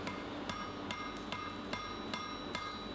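Hammer blows forge-welding a hot iron chain element, a steady rhythm of about seven ringing strikes spaced roughly every half second, close and clear with no talk.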